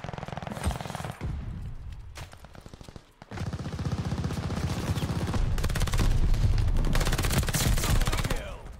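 Bursts of PPSH-41 submachine gun fire ring out in a Call of Duty Vanguard match, rapid automatic volleys loud and close with a short pause, then sustained firing amid game noise.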